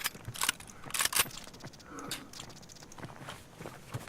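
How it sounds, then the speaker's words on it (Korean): Nearby footsteps in the survival shooter Escape from Tarkov, a run of soft irregular steps with a few sharper scuffs, moderately close, with faint talk in the background. "뒤에 주위에 발소리 들리는데"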